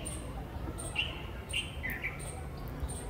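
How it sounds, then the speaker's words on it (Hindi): Small birds including a bulbul chirp and tweet outdoors where birds and squirrels come to feed, bright short calls spaced across the moment over a steady low background hum, moderately near and fairly soft. "उसकी आवाज़ ना बुलबुल की बहुत ही प्यारी होती है, सुनिएगा।"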